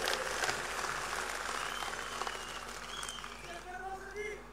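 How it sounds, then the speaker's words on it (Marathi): A crowd at a thanksgiving gathering held at a minister's residence claps hard for Devendra Fadnavis, a dense, steady wash of applause that slowly thins, with a voice rising over it toward the end. "दोन्ही हात वर करून एकदा जोरदार टाळ्या आदरणीय देवेंद्र फडणवीस साहेबांसाठी वाजवा"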